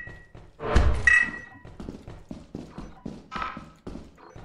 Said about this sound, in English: I hear thumping. Oh. Probably a thumper.